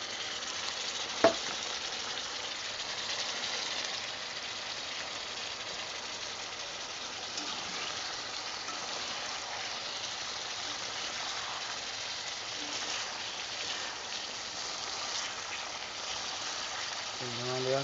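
Ackee frying in a pan for Jamaican ackee and saltfish, a steady broadband sizzle that holds evenly throughout at close range, with a brief clack near the start and a little background noise.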